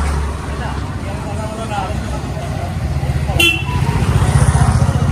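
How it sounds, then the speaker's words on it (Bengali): Suzuki motorcycles, including V-Strom and Gixxer models, idle at a group ride meetup in Kolkata, a low continuous engine rumble with a brief horn toot in the middle and engines revving louder toward the end while people talk. "অনেকগুলো বাইকই যাচ্ছে"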